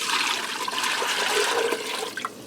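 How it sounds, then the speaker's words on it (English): Water pours steadily from a container into an Instant Pot for ramen soup, a continuous splashing gush that stays loud throughout and tapers slightly at the end. "I'm going to add in 8 cups of water."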